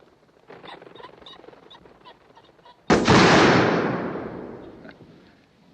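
A single loud shotgun blast rings out during a pheasant shoot on the grounds in Moonraker (1979), ending a stretch of faint bird calls and trailing away in a long, fading echo.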